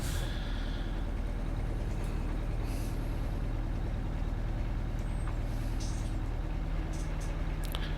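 A truck in American Truck Simulator, a Detroit 8V92T-powered rig, slows under braking, its low engine drone rumbling steadily as sharp air-brake hisses release at intervals.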